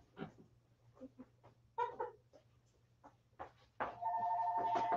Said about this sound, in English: oh, our phone is ringing here